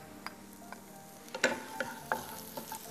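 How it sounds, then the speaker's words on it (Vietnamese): Lemongrass and chili stir-fried in a pan, with a few sharp spatula scrapes and taps over a soft, steady sizzle, all fairly quiet and close. "Khi các bạn xào thấy xả với ớt có mùi thơm thì chúng ta tắt bếp"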